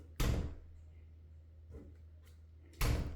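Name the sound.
door swinging as it is pushed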